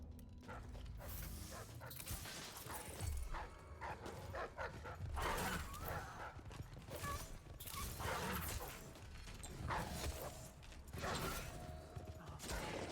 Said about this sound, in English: this dog is just doing wonders on me there